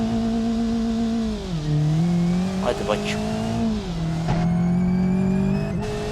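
A Nissan 350Z's engine in a driving game drones and rises and falls in pitch as it revs, a steady buzzy tone with brief sharp squeals, while someone talks over it.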